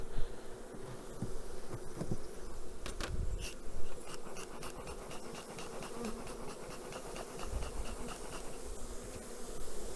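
A honeybee colony hums inside its hive in February, just after a new queen has been introduced: a dense, steady drone of many wings, with a few individual bees buzzing closer now and then.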